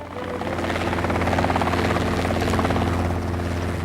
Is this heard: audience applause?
no